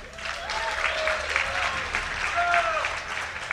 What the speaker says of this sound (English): give a cheer for Grubby.